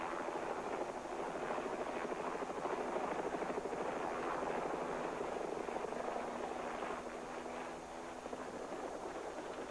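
Steady broadband rotor roar of a rescue helicopter over floodwaters, continuous and fairly loud throughout, with no speech.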